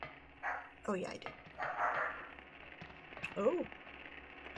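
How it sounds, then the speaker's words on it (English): A dog barks a few times in short, separate yelps at moderate distance, mixed with game sounds and a person talking nearby. "I hear John's dog."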